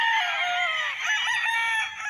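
Roosters and chickens on a one-hectare farm lot in Liliw, Laguna, several birds crowing loudly over one another in overlapping calls, close and dense, with no voices.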